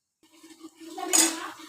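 A lid set onto a cooking pot of dry fish bhuna, a short close metallic clink and rattle as it settles.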